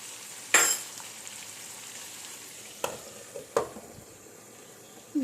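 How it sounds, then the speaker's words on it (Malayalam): Five fish fry slowly over low heat in a pan, giving a faint steady sizzle broken by a few sharp clicks and knocks of a utensil, with no talking. "കുറച്ച് സമയം എടുത്ത് പയ്യെ വറുത്തെടുത്താൽ മതി"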